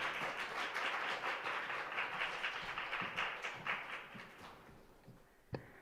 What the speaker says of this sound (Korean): 우리 박수로 환영해 주시기 부탁드립니다.